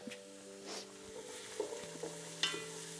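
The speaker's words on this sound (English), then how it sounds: "Can you stir that?" Garlic frying in a pan while being stirred, a steady close sizzle with scraping stir strokes and small clinks, with no talk.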